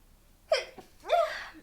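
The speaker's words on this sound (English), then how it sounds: "And I'm gonna sneeze." A single close sneeze, with a quick sharp intake of breath followed by a breathy burst, then silence.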